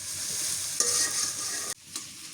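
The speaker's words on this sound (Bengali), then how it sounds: "শুটকিটা দিয়ে তেলের মধ্যে ভাজে নিই।" Dried fish frying in hot oil in a village kitchen, a bright steady sizzle with stirring scrapes and a sudden drop and flare near the end.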